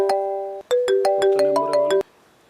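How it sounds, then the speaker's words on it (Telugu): A phone ringtone plays a bright, melodic sequence of electronic tones, loud and close, then stops abruptly. "ఫోన్ వస్తుంది"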